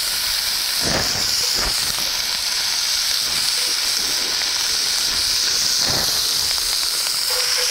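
Andouille sausage frying in a pan with bacon over a gas flame gives a steady, loud hiss and sizzle throughout, with a few soft knocks and scrapes in between.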